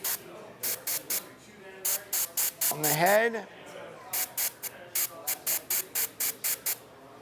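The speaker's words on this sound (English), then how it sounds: "So I'm going to spray a little bit on the backpack," An airbrush spraying basecoat paint onto a miniature's backpack, heard as a rapid series of short hissing bursts with a brief break where a voice speaks.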